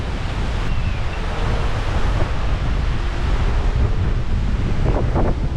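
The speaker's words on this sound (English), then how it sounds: "it's been so breezy every day since we've been here" Strong sea wind buffets the microphone in a steady, loud roar on a beach at Benalmádena on Spain's Costa del Sol, with surf washing in beneath it throughout.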